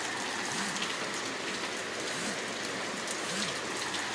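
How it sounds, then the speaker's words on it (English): Heavy rain pours down outdoors in a steady, dense hiss that never lets up, with a few faint low tones underneath and no talking. "it's raining pretty hard out here though"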